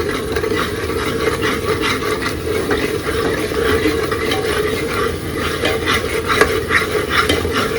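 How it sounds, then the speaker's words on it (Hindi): Food is stirred and roasted in a pan for an Indian arhar dal khichdi, with a steady sizzle under a continuous scraping and stirring texture and no talk. "और अब इसकी थोड़ी सी कर लेते हैं अच्छे से भुनाई।"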